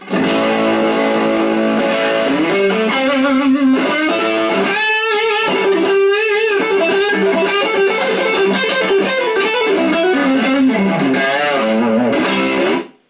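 An electric guitar played through an amplifier with a distortion pedal kicked in rings out loud and close, with sustained chords and bluesy riffs and runs and no one talking.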